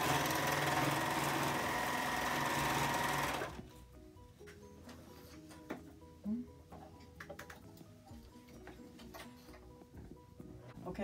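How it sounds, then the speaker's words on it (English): Serger stitching PUL fabric transport bags from the back with the flap held down, a loud steady mechanical whir for about three seconds that stops abruptly, followed by quieter handling clicks and soft taps. "this time we're going to serge from the back to keep the flap down while we serge"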